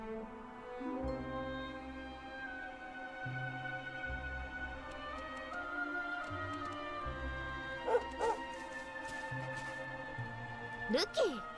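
Dog barking and yipping in the video game Dragon Quest XI, short repeated yaps heard against game music with steady background tones, moderately close.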